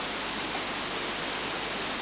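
Tons of water per second pour over a 10-metre canyon waterfall, a loud, close, continuous roaring rush with no break and no voices.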